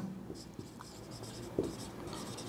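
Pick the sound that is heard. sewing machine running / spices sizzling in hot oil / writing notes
writing notes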